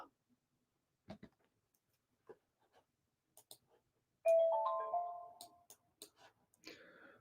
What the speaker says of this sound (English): Things are beeping off around here.